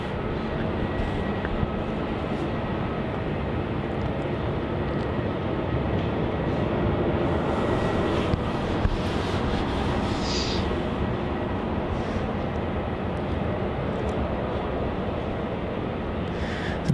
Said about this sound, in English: Look at that, we've got triple departures there.